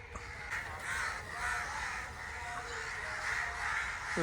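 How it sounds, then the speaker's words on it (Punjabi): Crows cawing over village fields lined with poplar trees near the Sutlej river in Punjab in the evening, with several repeated caws at moderate distance over steady outdoor background noise. "ਲੈ ਵੀ ਕਾਂ ਦੇਖ ਲਓ"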